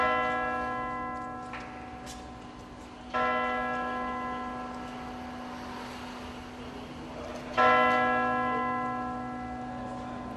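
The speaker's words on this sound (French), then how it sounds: "Le baptême des cloches de la cathédrale de Fort-de-France." Church bells of the cathedral of Fort-de-France ring at the bells' baptism ceremony in a sustained, resonant peal, with fresh strikes swelling the sound at intervals over a steady ringing hum.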